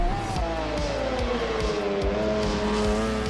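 A McLaren F1 GTR race car in a video game screams through the end of a fast lap, its engine note sliding down gradually while regular gearshift or curb thumps punctuate it, loud and close.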